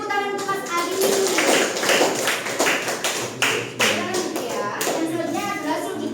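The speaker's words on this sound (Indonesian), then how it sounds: "Beri tepuk tangan untuk Mas Ali." Schoolchildren in a sixth-grade Indonesian class clap for a classmate, a lively burst of hand claps and taps filling the room, with children's voices chattering over it throughout.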